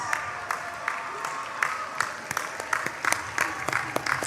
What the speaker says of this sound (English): I want to ask you to stand and offer a round of hearty applause to your families and your communities